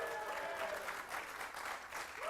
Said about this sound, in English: Guys, come on, that's worth a clap.